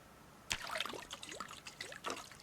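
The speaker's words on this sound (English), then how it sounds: "Transfer liquid from the water barrel to the pot." Water poured from a barrel into a cooking pot in the Project Zomboid video game: a short, fairly quiet trickling pour with faint splashy bursts and no talking.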